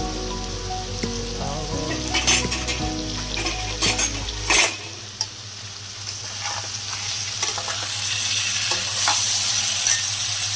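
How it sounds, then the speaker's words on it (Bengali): Potatoes frying in a pan, a steady close sizzle with scattered stirring and utensil clinks, while a low hum runs under the first half and then cuts out. "একটু রেস্ট দিয়ে আলুটা একটু ভেজে নিই।"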